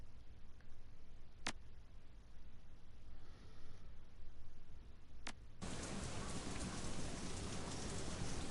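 Rain falls in the Shadowrun: Hong Kong video game, a constant soft hiss that swells into a louder, fuller downpour partway through, with two sharp ticks earlier on.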